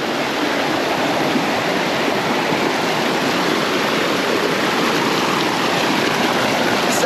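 A hidden waterfall in Jamaica roars without a break, a loud, dense rush of falling water heard close and filling the whole stretch with no voices.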